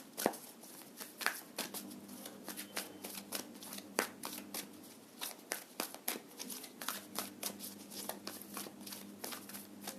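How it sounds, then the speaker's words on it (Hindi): Tarot cards are shuffled and drawn by hand in a quiet room. The sound is a close, soft run of papery flicks and snaps in an irregular rhythm that lasts about ten seconds, with no talking. "सो मैंने 3 कार्ड्स निकाले हैं यहाँ पे आपकी एनर्जी देखने को"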